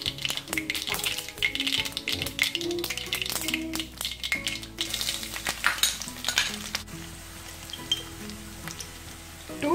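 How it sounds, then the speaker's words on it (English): Mustard seeds popping and crackling in hot sesame oil while a Kerala gooseberry pickle is prepared, a dense burst of rapid sharp pops over sizzling that thins out toward the end, with music playing underneath. "Around 2 tablespoons of oil, sesame oil, 2 teaspoons of mustard seeds"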